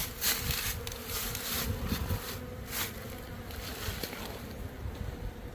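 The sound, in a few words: honeybees buzzing around untreated beehive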